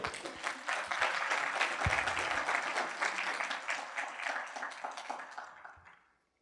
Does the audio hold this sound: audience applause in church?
yes